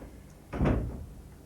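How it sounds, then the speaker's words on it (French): An indoor door being pushed shut, one muffled close thud with a brief rustle, heard against a quiet room hum. "Refermez la porte."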